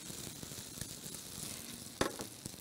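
Vegan scrambled egg fries in a pan with a steady, soft sizzle, broken by a few light clicks and one sharper knock of a utensil against the pan.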